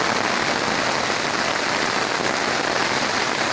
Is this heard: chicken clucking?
no